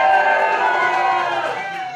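Wrestling arena crowd cheering loudly and steadily for two favorite wrestlers already in the ring, a dense sustained roar of many voices that stays loud throughout and eases slightly at the end.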